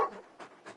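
A large dog pants in Final Fantasy XVI, a few soft breathy huffs at an even rhythm, close and quiet.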